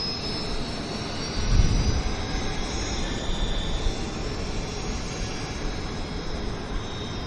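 A Q400 turboprop airliner at Vancouver Airport, its engines a steady broad roar with a high whine, swelling briefly early on and then holding constant at a moderate distance.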